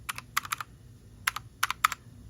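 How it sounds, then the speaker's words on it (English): Fingers type on a keyboard with mechanical switch keys, crisp clicky keystrokes in short bursts of two to four separated by pauses, close and alone in a quiet room. "It has the what's it called, the mechanical keys."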